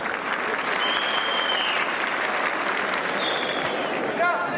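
An audience applauds at a 1991 solidarity night for Iraqi Kurds, with dense, sustained clapping filling a hall at an even, loud level. A few faint whistles or voices rise through the crowd.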